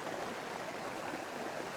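A small waterfall splashes down beside a rock at Padley, a steady close rushing hiss of falling water with no voices.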